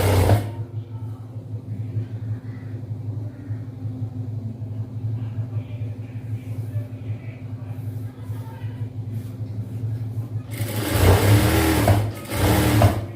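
A sewing machine stitches a chudidhar in a tailoring class, running as a steady mechanical hum with a louder, faster burst of stitching near the end.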